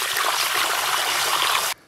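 Boiling water is poured into a wok holding fried pork belly, aromatics, chili sauces and beer for a fish stew, giving a steady rushing splash that cuts off abruptly.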